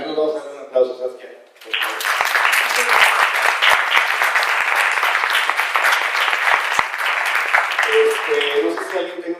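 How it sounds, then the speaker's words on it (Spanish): A Startup Grind audience breaks into applause for a guest speaker: a voice talks briefly, then dense clapping swells and carries on steadily, with a voice returning faintly near the end. "Vamos a darle un aplauso"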